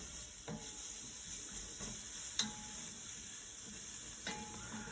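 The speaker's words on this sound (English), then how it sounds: "we've got our onions sauteing, and now we're going to add our spices" Onions sauteing with spices in a home-cooking pan for roasted bell pepper soup with chicken, a steady soft sizzle with a few brief clicks and scrapes of stirring, close and moderately quiet, with no voices.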